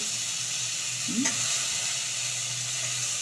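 About 250 grams of elephant foot yam frying in a pan and being stirred, a steady bright sizzle with a brief scraping stir near the middle.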